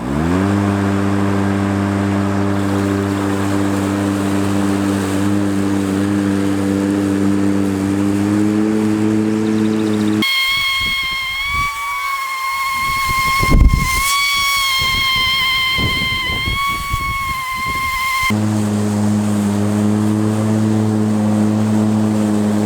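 A Husqvarna LE 221 R electric riding mower runs in second speed while bagging grass. Its steady droning motor and blade whine jumps to a higher, tonal whine midway, then settles back to the lower drone, with no talk.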